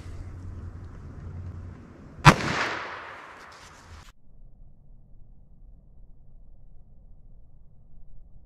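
A single sharp, loud gunshot from a .38 Special +P revolver with a 4-inch barrel fired into ballistic gel, its ringing echo fading over about two seconds before a quiet background returns.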